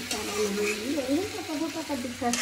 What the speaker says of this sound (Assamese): এতিয়া নেদা 2 পিচ ভাজা মাংস ৰাখি দিছোঁ